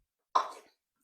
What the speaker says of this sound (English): Oh, that's a big baby cough.